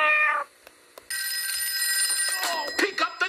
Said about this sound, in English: Oh, pick up the damn phone!